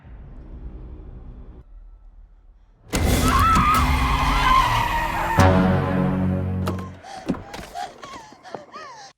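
A car skids with a long tire squeal, then slams into another car with a loud crash and shattering debris, followed by scattered clattering and shouting in a dramatic film scene.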